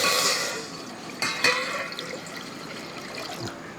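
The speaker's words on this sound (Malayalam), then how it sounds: "ഒരു മൂന്ന് ഗ്ലാസ് വെള്ളമുണ്ട് ആ പച്ചവെള്ളം അങ്ങോട്ട് ഒഴിച്ചു" Three glasses of plain water poured into a cooking pot for Kerala-style grape juice, a gushing splash that fades into trickles and drips, close with no talk.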